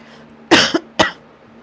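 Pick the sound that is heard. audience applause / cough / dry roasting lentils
cough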